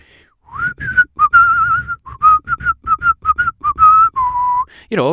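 A person whistles a lively tune up close, with short bright notes and a few held ones, ending in a rising swoop.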